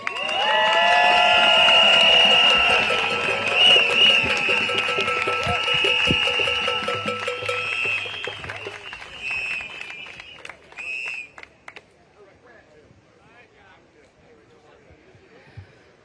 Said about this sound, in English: give another round of applause for our Reverend Graham Hagler.